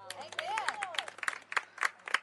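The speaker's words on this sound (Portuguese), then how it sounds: "Roger Cabral, palmas pra você." A handful of scattered claps in a podcast studio, beginning sparse and growing a little denser, heard close and mixed with a voice talking over them.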